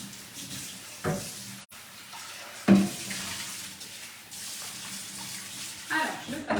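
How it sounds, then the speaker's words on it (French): A Thermomix part is rinsed under running tap water, a steady hiss of water into a sink with brief louder splashes as the piece moves through the stream. Some speech may be mixed in. "Alors, je le passe juste sous l'eau."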